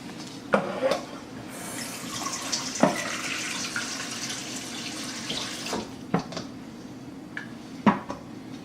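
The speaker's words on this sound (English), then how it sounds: "One we're gonna wash with regular tap water." Steady rush of regular tap water running over halves of St. Louis style pork spare ribs being washed in a sink, with occasional clunks and knocks of handling close by.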